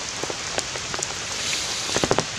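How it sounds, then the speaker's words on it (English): Light rain falling outdoors, a steady hiss of fine drops with scattered sharper drip ticks, soft and even throughout with no voices. "it is rain, but not very heavy rain, it's just light rain"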